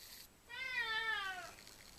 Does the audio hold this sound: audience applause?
no